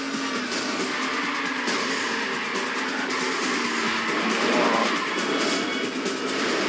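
A race car engine in the video game Burnout Revenge, droning and whining continuously with rising and falling revs and faint tire noise, loud and steady with no voices.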